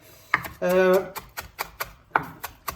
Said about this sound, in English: So at this point, just chop up your herbs.